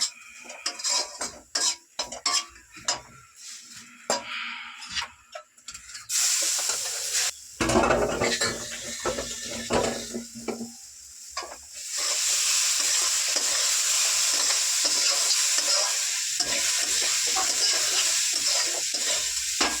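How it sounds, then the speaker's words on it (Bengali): Gram flour (besan) roasting in a pan for kachori filling, with clattering spoon stirs and scrapes against the metal, then a sustained loud sizzle taking over in the second half. "বেসনটা ভাজতে ভাজতে বেসনের গন্ধ বেরিয়ে যাবে"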